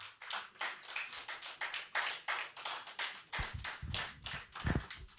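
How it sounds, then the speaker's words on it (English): Audience at a pharmacists' annual conference claps for a speaker coming on stage, fairly faint, uneven rhythmic clapping from a smallish group, with some low thumps near the end. "A round of applause for her."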